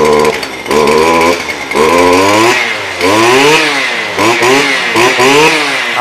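A STIHL FS 250 brush cutter's two-stroke engine revs hard in repeated bursts, rising to a loud high whine and then dropping back to a rough idle. It sounds close and stands alone.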